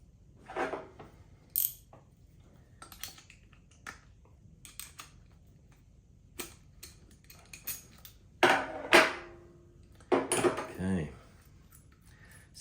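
Metal M10 nut, washer and bolt are undone from a coil held in a leg vise, giving scattered close clicks, clinks and a few sharper metallic taps separated by quiet gaps.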